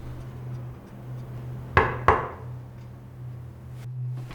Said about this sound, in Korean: 그날 저녁 화장실 안쪽에서 들려오는 노크 소리